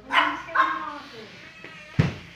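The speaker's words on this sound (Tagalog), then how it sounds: "Yung mga aso." A dog barks sharply a few times at close range, two quick barks, then a short pause before a louder final bark.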